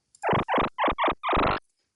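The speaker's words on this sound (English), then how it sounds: "Monkey call." Synthesized monkey call sound effect generated by Python code, five loud, close, rasping hoots in quick succession, the last one slightly longer, alone with no talking.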